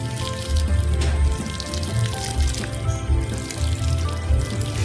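Clean water poured over freshly prepared fruit-tree stem cuttings until the soil is soaked, a steady close splashing and trickling that runs unbroken for about five seconds.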